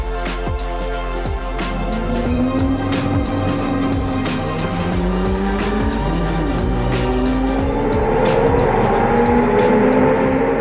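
Race cars, a pole-sitting Ferrari among them, roar off the start of a late-afternoon second race at the Dijon-Prenois circuit, several engines loud and close with rising and falling revs as cars pass, and brief tire squeals throughout.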